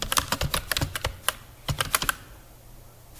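Rapid typing on a computer keyboard while entering a C++ program name, a quick run of sharp key clicks that pauses briefly near the end before one more keystroke.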